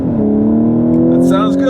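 A car engine roars steadily at high revs during a launch, with its pitch rising slightly as it pulls away.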